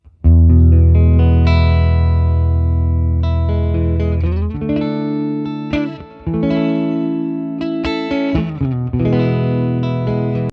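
Electric guitar with the neck pickup in single-coil mode runs through an AmpliTube 5 57 Deluxe amp model, playing ringing, sustained chords and notes with a gritty, driven edge, loud and continuous with no voices.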